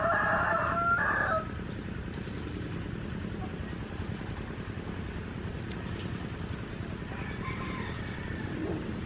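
A rooster crows loudly at the very start on a farm, then a steady rushing background noise carries on, with faint low voices in the mix.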